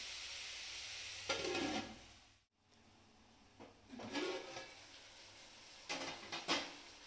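Chicken biryani masala stirred in a pot: a few separate bursts of scraping and a soft sizzle, each lasting about half a second, near and moderately loud with short pauses between them and no talk.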